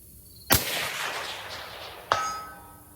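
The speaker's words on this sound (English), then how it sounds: "it did actually make the supersonic crack" Two sharp, loud rifle shots fired through a Dead Air Sandman X suppressor, each a sudden crack with a short decaying tail, spaced about one and a half seconds apart with no voices.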